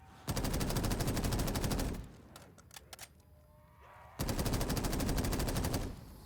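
Automatic gunfire from an upgraded weapon in Black Ops 3 Custom Zombies on the Quiet Cosmos map: two long, loud, rapid bursts separated by a short lull with scattered game effects, and no voices.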